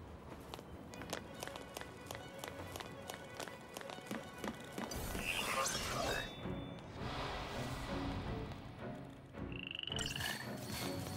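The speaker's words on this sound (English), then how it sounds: "Pissed off a bunch of frogs." A group of frogs croaks in Final Fantasy XIII, rapid repeated croaks under quick running footsteps and swishing game effects, moderately loud and building toward the end.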